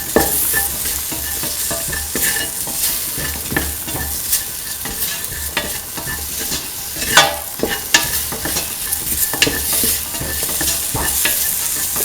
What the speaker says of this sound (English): Mix in the mixed spices with the rest of the mixture.